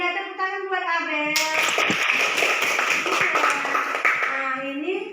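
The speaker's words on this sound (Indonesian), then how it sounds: "tepuk tangan buat Abel" Young children in a primary-school classroom break into a burst of rhythmic clapping for a classmate during a shapes lesson, loud and close, with a teacher's voice speaking over the start and children's voices mixed in.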